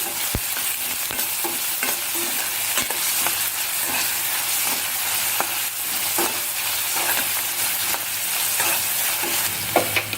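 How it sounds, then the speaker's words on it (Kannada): A medium onion, finely chopped, fries in a pan for a traditional chutney, giving a steady, close sizzle with repeated scraping stir strokes throughout and no talking. "ಸಣ್ಣಗೆ ಹೆಚ್ಚಿದ ಒಂದು ಮೀಡಿಯಂ ಸೈಜ್ ಈರುಳ್ಳಿ ಈರುಳ್ಳಿನೂ ಸಹ ಚೆನ್ನಾಗಿ ಫ್ರೈ ಮಾಡ್ಕೊತಾ ಇದ್ದೀನಿ"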